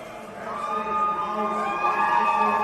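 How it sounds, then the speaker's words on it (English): A Swiss crowd cheers at an ice climbing World Cup lead semi-final in Saas-Fee, Switzerland, with sustained whooping and shouting that swells steadily and stays loud throughout. "the Swiss crowd are over the moon about that one"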